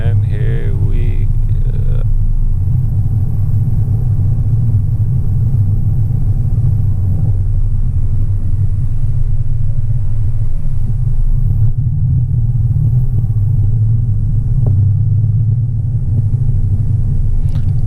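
A car engine rumbles steadily through a U-turn near Dover Stone Church, New York, a low continuous drone that holds for the whole stretch, with a brief brighter noise at the very start.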